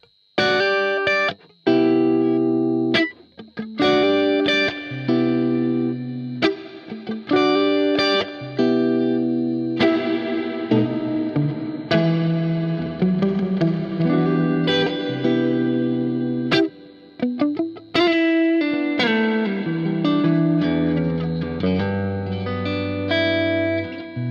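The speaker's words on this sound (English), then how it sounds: "so I'm going to blend some reverb in" An electric bass plays a loud, continuous line of notes through a DigiTech XP400 Reverberator, with a washy reverb tail and some distortion, ringing on between plucks.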